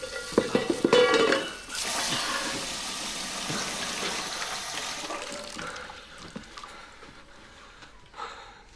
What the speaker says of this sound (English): It's only a saucepan, my love.